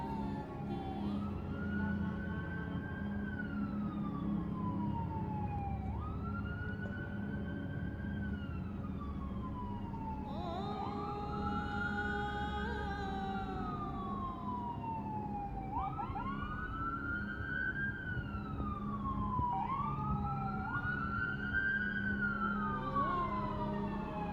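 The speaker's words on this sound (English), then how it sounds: "You hear the ambulance, the sirens in the background." An ambulance siren wails, sweeping up and down repeatedly at a distance, layered over steady city traffic rumble; no talking.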